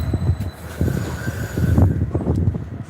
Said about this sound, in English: Slow down, train.